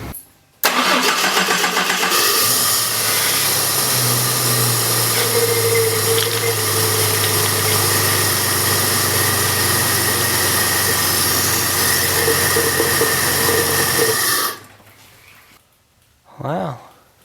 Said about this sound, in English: Let's start the car and give it a shot.